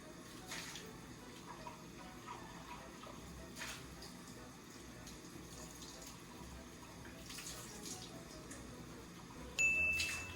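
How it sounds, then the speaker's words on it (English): Soap bubbles rinsed off a dish under a running kitchen faucet: a steady, quiet stream of water splashing in the sink, with a brief louder clatter near the end. "And now we can rinse off all of the bubbles."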